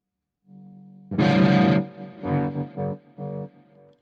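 Electric guitar, a Gibson-style SG, played through an effects unit with heavy, overly thick delay and distortion: a loud sustained strum followed by several fading repeated bursts, alone with no talking.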